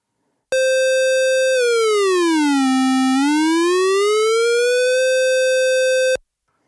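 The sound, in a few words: Moog Subharmonicon synth, VCO1 frequency being swept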